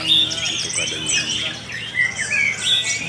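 Songbirds chirp and whistle nonstop at a bird singing contest held for Lamongan's anniversary, with many overlapping tweets and trills filling a busy outdoor crowd scene.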